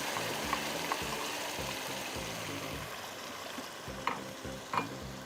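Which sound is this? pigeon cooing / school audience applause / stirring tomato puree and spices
stirring tomato puree and spices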